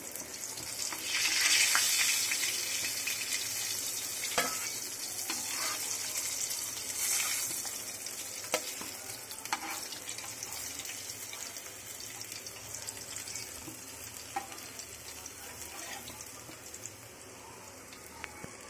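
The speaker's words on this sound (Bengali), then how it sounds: "একইভাবে আমি সবগুলো মাছ ফ্রাই করে ফিরে আসছি" Pieces of Padma hilsa fish fry in hot oil with a steady, continuous hiss and crackle throughout, joined by occasional soft clicks and light utensil sounds, all fairly close and moderately loud with no voices.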